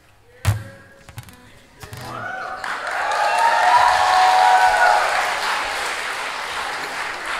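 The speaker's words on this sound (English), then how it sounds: "I say something really smart and then everybody claps" A few thumps open the moment, then a crowd at a concert breaks into sustained applause that swells and holds steadily.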